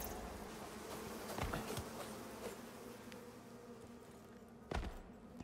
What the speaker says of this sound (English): Hey, there's more bees spawned.